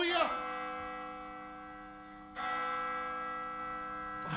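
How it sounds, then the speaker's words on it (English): Large bells struck in a bright, resonant peal, with a strike at the start, another a little over two seconds later and a third at the end, each ringing out with a long, slowly fading sustain and no talk over them. "I need bells, Julia."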